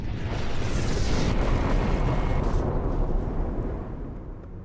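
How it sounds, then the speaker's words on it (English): Huge explosion from an asteroid impact in the Peruvian highlands, a deep sustained roaring blast that stays heavy and loud for several seconds before slowly fading. "Local people noticed strange lights in the sky, followed by a huge explosion."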